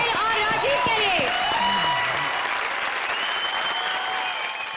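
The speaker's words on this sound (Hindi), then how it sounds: "जोरदार तालियां स्वप्निल और राजीव के लिए" Studio audience applause on the Comedy Circus 20 20 television comedy show, loud and continuous, with musical tones and sliding sounds over it and a voice speaking briefly early on.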